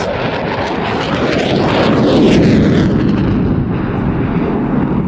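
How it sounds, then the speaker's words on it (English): A French Rafale fighter jet roars loud and close during a display at Cosford Airshow, a broad continuous jet-engine rumble that swells midway and then eases slightly, with no voices. "It's the fabulous French Rafale."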